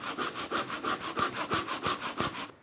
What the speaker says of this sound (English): Man, this 2x4 is hard to cut through.